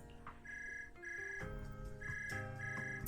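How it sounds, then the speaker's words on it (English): A phone rings in a video game story scene, a patterned electronic ringtone of repeating tonal bursts over quiet background music, with no talking. "Suddenly a phone rings."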